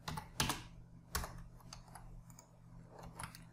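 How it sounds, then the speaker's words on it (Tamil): Typing on a computer keyboard while entering a name in Tamil on an online ration card application, with clustered key clicks and a few louder taps spread across the few seconds, close and alone, no talking. "தென் தமிழில் டைப் பண்ணணும்."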